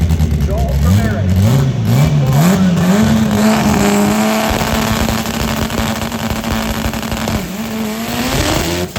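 An X3-class race car launching at a drag race, its engine revving up through rapid shifts then holding a loud, steady roar as it pulls away, with crowd and announcer noise underneath.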